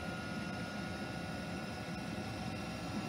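A diesel air heater runs with its exhaust passing through a small muffler, giving a steady, even, moderately quiet drone with no breaks.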